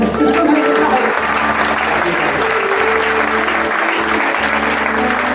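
An audience applauds after a Kölsch band's stage performance, a full, sustained wash of clapping that holds at an even, loud level throughout.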